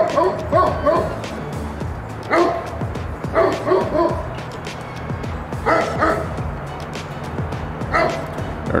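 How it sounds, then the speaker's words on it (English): A Great Pyrenees barks loudly and close by in deep repeated bursts, with several clusters of barks spread across the stretch and whimpering yips in between. "She's doing her bark."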